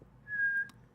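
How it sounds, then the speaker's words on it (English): A single short, thin whistled tone from a person, held steady for about a third of a second in a quiet room, fairly soft and with no speech. "I think I just found out how to whistle."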